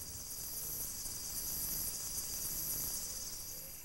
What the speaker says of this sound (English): I tried to videotape this frog while calling for the whole trip